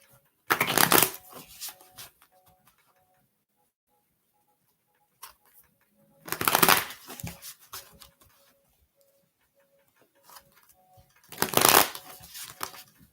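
Three bursts of cards being shuffled, each a quick riffling rush about two seconds long, separated by quiet stretches with a faint repeating electronic tone.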